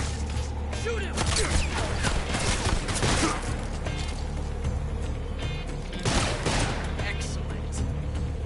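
Gunfire crackles in Metal Gear Solid Delta: Snake Eater, with bursts of shots in the first few seconds and again near the end over a steady game background.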